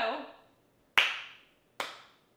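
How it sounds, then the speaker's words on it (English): Three sharp hand claps with uneven gaps, the first trailing into a soft vocal sound, tapping out the beat of a song during a family music lesson, close and clear in a quiet room. "clapping out the rhythm and fitting in the words"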